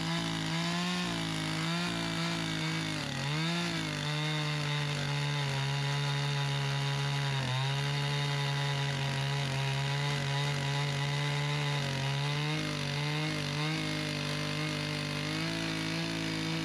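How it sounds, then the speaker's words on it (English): A chainsaw fitted with a carving bar cuts a joist pocket into a log for a dovetail log cabin, its engine droning loud and steady with a couple of brief pitch dips as the chain bites. "I'm going to make two more little tiny cuts with this carving bar."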